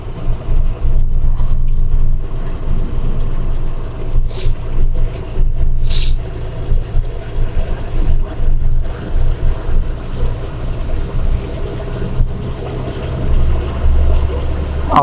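A car engine drones steadily while driving onto a bypass on a cold day, a loud low rumble mixed with heavy wind buffeting across the microphone and brief higher hisses.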